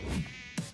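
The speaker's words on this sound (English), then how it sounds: "When mosquitoes show up," A high, thin mosquito buzz whines steadily at close range in an ad break during a soccer broadcast, swelling briefly near the end.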